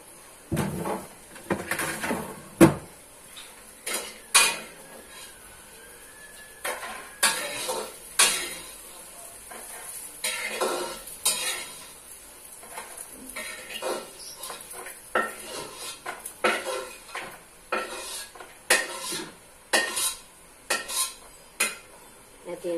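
Chopped garlic and onion being sautéed in a pan with a little oil, heard as scattered stirring scrapes and clatter of a utensil against the pan, with repeated knocks and a faint sizzle underneath.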